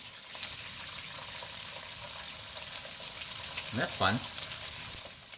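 Egg cracked into hot oil in a pan for a quick scramble, giving a steady crackling sizzle throughout, with a brief voice speaking partway through.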